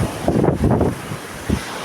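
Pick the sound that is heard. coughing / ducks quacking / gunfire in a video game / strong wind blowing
strong wind blowing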